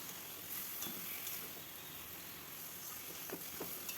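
Cabbage with salt and baking soda is stirred in a pan, giving a faint, low sizzle with a few quiet scraping strokes from the spoon near the end.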